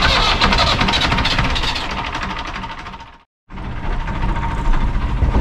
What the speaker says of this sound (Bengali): তার পিছনে ইঞ্জিন।